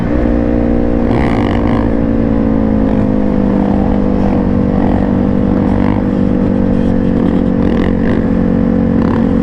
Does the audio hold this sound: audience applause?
no